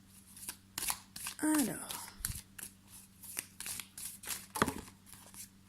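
Oracle cards are shuffled by hand in repeated soft riffling bursts, with one card flicking out partway through; someone speaks French briefly over the shuffling.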